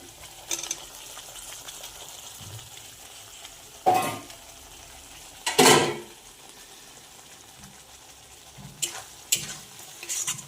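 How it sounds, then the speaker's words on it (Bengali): Prawns frying in a pan for Bengali prawn malai curry, with a low steady sizzle broken by a few sharp clatters and scrapes of the spatula against the pan, close, no talking. "এখন চিংড়ি মাছগুলো দিয়ে দিচ্ছে।"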